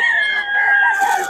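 At a tiangge market in Bocaue, a rooster for sale crows loudly and close in a single drawn-out call.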